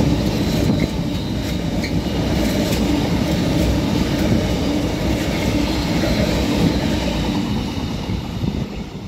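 A Freightliner freight train hauled by Class 66 locomotive 66516 rumbles steadily past Doncaster station on the East Coast Main Line, a loud, continuous roar of wagons with faint rhythmic clatter from the wheels, no voices.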